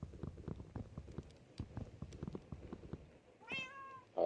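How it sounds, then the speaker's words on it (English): In Minecraft Bedrock, a cat gives one clear, close meow after a run of soft, rhythmic footsteps. "Alright, what's up, kitties? What's up, cats?"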